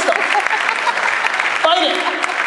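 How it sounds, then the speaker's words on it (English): A conference audience applauds, a dense steady patter of many hands clapping throughout, with a voice speaking over it near the end. "Let's clap it up for these 11 holdouts."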